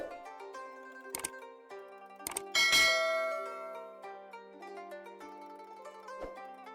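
Bright metallic bell strikes ring out as a notification chime, several overlapping dings with long, sustained tonal decay, clear and isolated.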